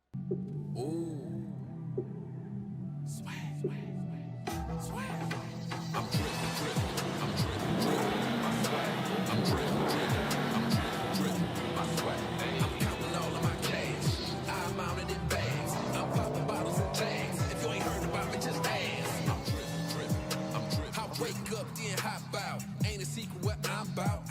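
A car in the NexusRP video game starts up and drives, its engine note rising and falling through gear changes under loud rap music, with tire noise and a brief quiet start.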